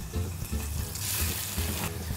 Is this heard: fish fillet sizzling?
yes